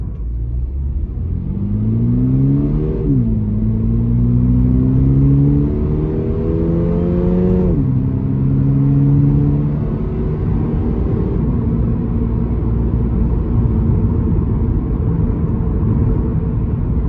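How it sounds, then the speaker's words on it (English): A 2022 Toyota GR86's engine revs up twice in sport mode with rising, throaty exhaust harmonics, then settles into a steady, gruff rumble; no voices. "definitely get more sound out of the exhaust in sport mode."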